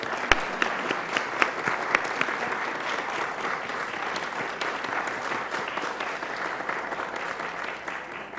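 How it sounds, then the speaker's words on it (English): A crowd applauds a university professor on his 100th birthday, dense clapping from many hands filling the room at an even, strong level for about eight seconds, with no voices over it. "Let's give him a round of applause."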